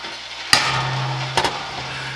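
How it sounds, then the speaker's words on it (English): Vinegar-soaked apricots dumped into a medium saucepan, a sharp close clatter followed by a lower hum and a second quick knock, then quiet. "Once my apricots have soaked in the vinegar for 4 hours, I'm going to dump them in a medium saucepan."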